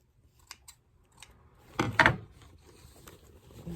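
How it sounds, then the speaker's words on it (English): Scissors snip the drawstrings off a dollar-store placemat bag, a couple of short crisp cuts close by, with faint handling clicks before and after. "Cut these strings off."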